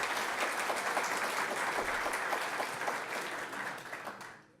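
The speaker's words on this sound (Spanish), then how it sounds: "Un aplauso también para ellos, por favor." An audience at a Chilean pension reform debate gives a round of applause, dense even clapping that holds steady before fading out at the end.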